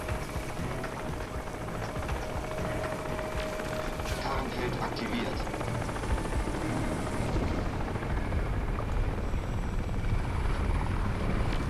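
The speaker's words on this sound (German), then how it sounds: "Da ist ein Hubschrauber." A helicopter's rotor chops steadily overhead in Crysis, loud and continuous, layered with mechanical background noise and occasional faint talk.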